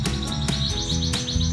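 A canary sings close and loud in rapid trilling chirps and tweets, a dense continuous warble layered with sharp repeated notes.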